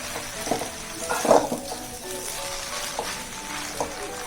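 Egg noodles being stirred and mixed with soy sauce and chopped egg in a hot pan, giving a soft sizzle with occasional scraping and clinks of the spatula against the pan, fairly close and quiet.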